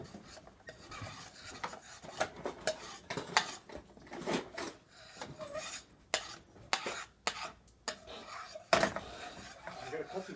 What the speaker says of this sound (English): continue to stir your sauce at low